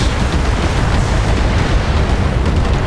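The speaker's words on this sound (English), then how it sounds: "Here come the missiles." Missiles explode in the BattleTech mech video game as a dense, continuous barrage of booming, rumbling blasts that overlap without pause.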